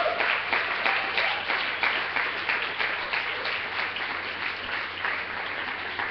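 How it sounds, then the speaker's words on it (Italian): Steady applause from an audience at a church children's event, dense and sustained throughout with no pauses, fairly close and evenly loud. "vogliamo fare un applauso a chi ha collaborato"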